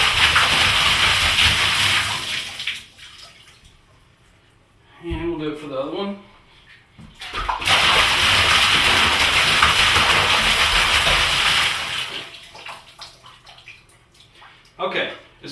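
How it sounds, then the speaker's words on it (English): OxiClean water gushes out of a homebrew keg during keg prep, a loud, steady rushing hiss. A pause with someone speaking briefly splits it, and then a second long pour empties the other keg. "the next thing you're going to do is dump your OxiClean water out"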